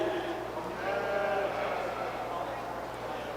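Ewes bleat at a 4-H/FFA breeding sheep show at a county fair, their calls wavering under a voice announcing over a loudspeaker in a large echoing hall.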